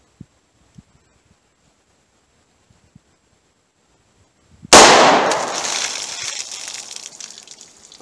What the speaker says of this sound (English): let's try the Snubnose Revolver. We'll see what we get through the test medium.